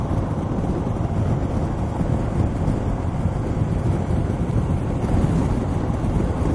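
Steady, heavy wind roar buffeting the top of a motorcycle rider's helmet at speed on a 2018 Harley-Davidson Heritage, a dense continuous low rumble with no pauses.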